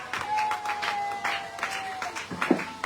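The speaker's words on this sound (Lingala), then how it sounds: "est-ce qu'on peut applaudir pour la parole de Dieu?" A church congregation applauding during a service, a loud run of rhythmic clapping by many hands, with a few voices faintly mixed in.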